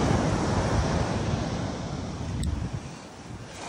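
Ocean waves wash onto a beach in a steady broadband roar, heavily mixed with gusting wind noise on the microphone while riding along the sand, continuous and fairly loud throughout.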